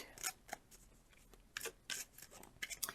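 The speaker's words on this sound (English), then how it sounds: "as I'm shuffling the cards" Tarot cards being shuffled during a card reading, giving several quick papery riffles and scrapes in short irregular bursts, close and fairly soft with quiet gaps between.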